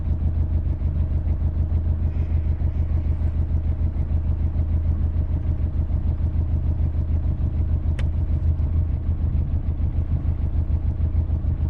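The inboard engine of a wooden Tahiti gaff cutter sailboat idles steadily, a close, loud, even low chugging with a rapid regular pulse that holds constant throughout, with one brief sharp click partway through and no voices.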